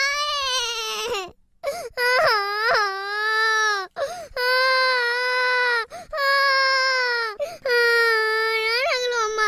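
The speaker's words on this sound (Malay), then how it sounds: "Biarkan anak menangis." A young girl cries in loud, sustained wails that rise and fall, broken by short gasping pauses for breath, close and continuous throughout.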